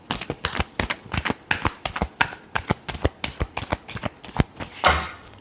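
Crisp rapid riffling of tarot cards being shuffled up close, a series of quick flicking bursts in uneven rhythm, with no voices.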